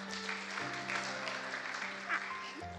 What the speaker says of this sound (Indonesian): Tepuk tangan tuh Pak Suwito.